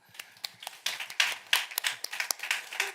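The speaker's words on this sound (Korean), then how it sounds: "박수 한번." Scattered hand claps from a small church youth congregation, sparse and uneven rather than a full ovation, moderately quiet in a room.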